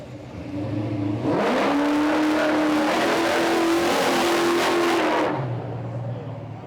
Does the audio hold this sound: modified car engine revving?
yes